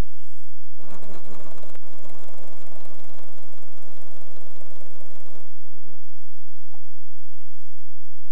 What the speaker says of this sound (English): The dual feed will feed the cording evenly from under the presser foot.